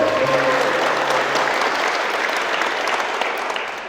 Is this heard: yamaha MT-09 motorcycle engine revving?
no